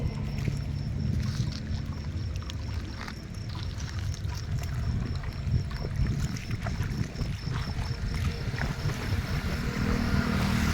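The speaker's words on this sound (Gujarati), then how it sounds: "ઉપરથી સતત પાણી વહેતું થઈ રહ્યું છે જુઓ" Water rushes continuously, a dense, steady roar that never lets up.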